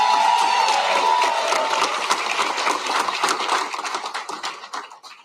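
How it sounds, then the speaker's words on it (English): Crowd cheering and clapping at an election night speech, a loud dense roar that thins into scattered claps and fades out by the end. "Give them a big round of applause."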